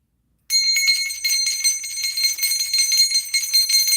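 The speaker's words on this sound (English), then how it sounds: "as I ring my bell" A small hand bell rings during a spiritual ritual, entering abruptly after a brief silence and then jingling continuously with bright, shimmering tones and slight rhythmic pulsing, close and fairly loud, with no talking.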